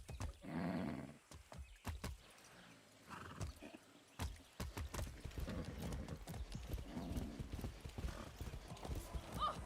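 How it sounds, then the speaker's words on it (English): Hooves clip-clop in quick galloping runs and horses neigh loudly in Far Cry 6, with gaps of silence between bursts and no talking. "Damn, these horses are intense."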